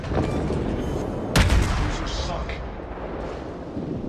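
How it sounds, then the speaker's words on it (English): Naval artillery fire in World of Warships, a single heavy boom partway through over a constant rumbling battle ambience, with no voice over it. "our shells are landing with more accuracy"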